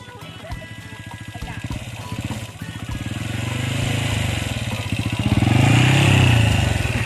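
A motorcycle engine rumbles close by with a fast throbbing idle, then revs harder and swells into a loud roar near the end.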